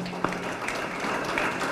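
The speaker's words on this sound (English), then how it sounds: "Give them a round of applause." Applause from an audience, a steady wash of many hands clapping at moderate volume, with no voices over it.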